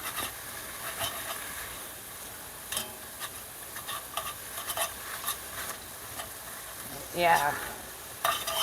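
Very lean ground hamburger fries in a pan, with butter to be added. It makes a steady close sizzle broken by clicks and scrapes of stirring, and a single word is spoken.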